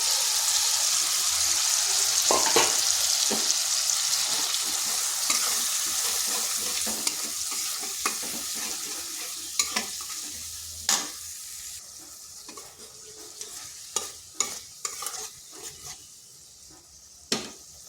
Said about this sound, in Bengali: আর একটু সময় ধরে মশলাটা কষে নিচ্ছি